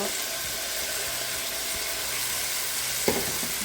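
Potatoes fry in a pan with a soft, steady sizzle throughout, fairly quiet, with a faint clink near the end.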